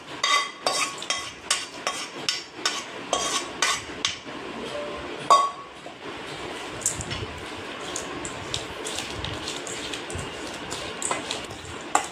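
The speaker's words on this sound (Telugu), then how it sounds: "ఈ బౌల్లోకి దీన్ని ఈ ఆయిల్ని వేసి మసాలా పోసుకొని బాగా కలపాలి ఫ్రెండ్స్" Brinjal pickle mixed with oil and masala in a bowl, with a rhythmic run of knocks and clinks of a spoon against the bowl, then softer, wetter squishing as the mixing continues.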